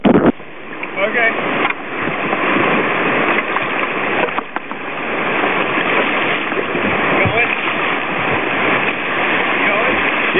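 Rushing whitewater on Polly Creek at Federal Falls, its first big drop, forms a loud, continuous roar of churning, splashing water that fills the whole clip up close, with brief thumps and surges.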